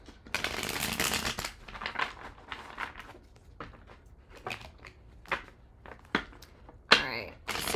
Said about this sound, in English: I have to shuffle another deck real quick.